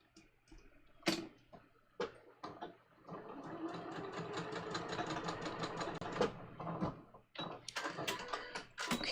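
A home sewing machine stitches a garment seam in a steady, rapid mechanical chatter lasting several seconds, bracketed by separate clicks and short bursts of stitching, close and clear with no talk.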